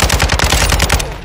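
Rapid burst of machine gun fire in Warzone 2.0 DMZ, about ten close, loud shots in a quick even rhythm that stop abruptly.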